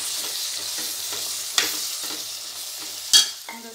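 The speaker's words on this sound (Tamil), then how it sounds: "போட்டு நல்லா கலக்கி விட்டுட்டு ஆஃப் பண்ணிடுங்க." Flat bean sukka with green chillies being stirred in a frying pan, a close steady sizzle with scraping spoon strokes and a sharp metallic clank near the end.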